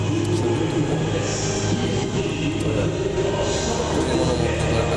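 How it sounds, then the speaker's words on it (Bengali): A Sky Train pulls in at Jewel Changi Airport, a steady low rumble of rail movement spread across a busy indoor hall, with crowd noise and faint voices mixed in throughout. "ট্রেন আসতেছে, স্কাই ট্রেন"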